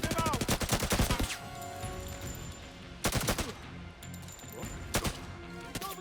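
In the video game 007: First Light, gunfire crackles in rapid automatic bursts: a long volley, then two shorter ones, with a person talking over the battle noise.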